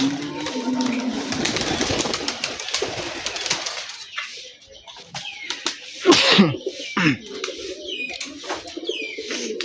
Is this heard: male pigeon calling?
yes